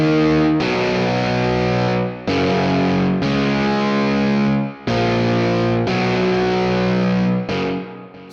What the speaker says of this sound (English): we'll take a listen to the guitar parts right now.